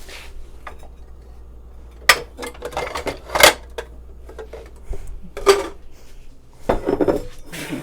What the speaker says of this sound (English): Oh, we need a bowl.